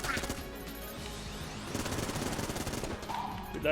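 A quick flurry of rapid gunfire fills a few seconds in Enter the Gungeon: dense, chattering volleys of small shots, fairly loud and close, with game chimes at the edges.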